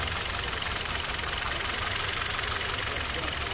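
Kia Soul engine running with a misfire, a steady close mechanical idle with a rapid rhythmic knock and vibration throughout.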